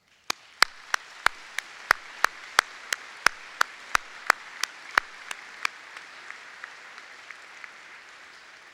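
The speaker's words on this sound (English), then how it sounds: "Let us give them a round of applause." Applause at a university afternoon convocation: a steady series of sharp, evenly spaced claps from a nearby clapper over a soft diffuse wash of hall applause. The claps slow and fade out toward the end.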